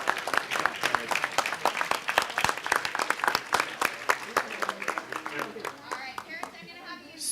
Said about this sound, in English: Give these parents a round of applause.